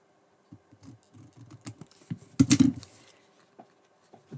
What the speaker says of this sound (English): I'm going to cut a large border. It's all freehand.